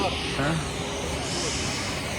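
An airplane at the airport for a flight to Lakshadweep fills the scene with a steady, loud engine roar and wind noise, while a person speaks over it.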